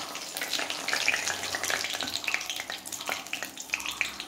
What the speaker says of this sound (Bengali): এই যে এখন তেলে আমি ফোড়নটা দিয়ে দিচ্ছি।